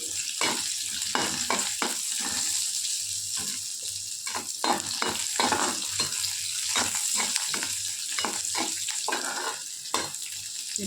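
Onions frying in a pan with a steady crackling sizzle, punctuated by repeated scraping stirs at close range, with no talking.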